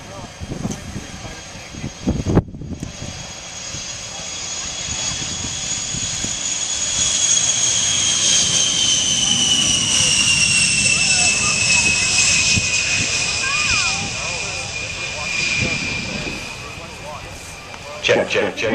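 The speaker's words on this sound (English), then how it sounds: "United States Air Force and the A-10 Thunderbolt 2 flight demonstration." An A-10 Thunderbolt II jet flies a demonstration at an airshow, its loud whining engine roar swelling and shifting in pitch as it passes, while an announcer talks over it.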